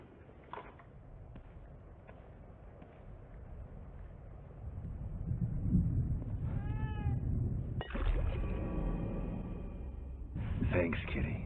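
A cat meows in The Evil Within 2, a short, close mewing call sounding partway through amid low ambient rumble, game sounds and brief speech.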